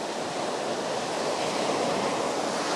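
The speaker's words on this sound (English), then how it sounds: "The waves are all breaking super close to shore right now" Ocean waves breaking close to shore at sunrise, a steady, loud wash of surf that roars continuously without distinct pauses.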